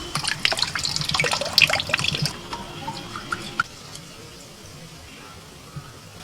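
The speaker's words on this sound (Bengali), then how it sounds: "এইভাবে জল দিয়ে দুবার তিনবার করে ধুয়ে নিচ্ছি" Small shrimp are rinsed in water in a bowl, giving a couple of seconds of splashing and dripping that then fades to quiet, with a few stray drips.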